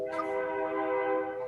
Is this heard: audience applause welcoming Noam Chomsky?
no